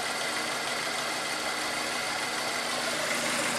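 Toyota Tarago (Previa/Estima) engine idling after its idle control valve was cleaned, a steady, even hum with no voices over it.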